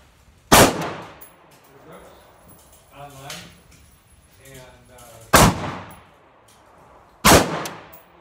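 An AR15 rifle fitted with a KCI 100-round drum magazine fires three separate loud shots several seconds apart, each a sharp, close blast with a short ring, and someone talks between the shots.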